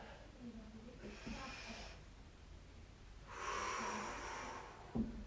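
A person breathes out forcefully during an oblique abdominal exercise, giving a soft airy exhale, then a second longer, stronger breath; quiet and close, with faint low background sound.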